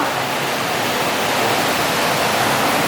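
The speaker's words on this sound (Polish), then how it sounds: "Jest straszna ulewa, straszna burza." A heavy downpour during a thunderstorm pours down outside a window and onto a roof, a dense, steady roar of rain that holds constant and loud throughout with no voices.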